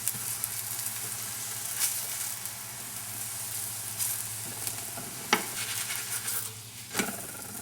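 Rajma paratha, an Indian flatbread made with red kidney beans, sizzling steadily in butter or oil in a pan, a constant close frying hiss with occasional scraping stirs and taps.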